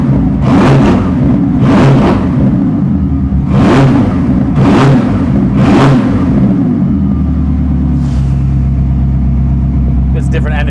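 Koenigsegg Gemera V8 blipped several times in quick succession, each rev a sharp rising burst over a steady idle, close and loud with people talking nearby.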